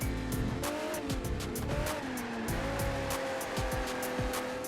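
Ferrari race car in Test Drive: Ferrari Racing Legends accelerating hard through a turn, its engine note climbing and dropping with repeated gear shifts amid rushing tire and wind noise, loud and continuous.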